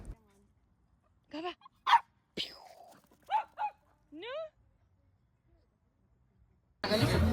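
Dogs at a dog park, one especially loud, giving a handful of separate sharp barks and yips spaced across a few seconds, close and clear against quiet, with a burst of noise at the end.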